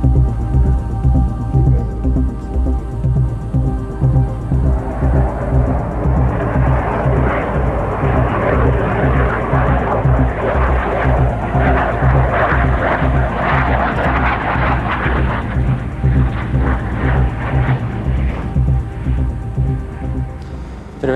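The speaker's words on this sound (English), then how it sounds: "At 330 miles per hour, Thrust was well and truly on her way." Thrust SSC jet-powered car accelerating at speed, a loud roaring jet thrust that builds, peaks in the middle and slowly fades over about twenty seconds, with no talk.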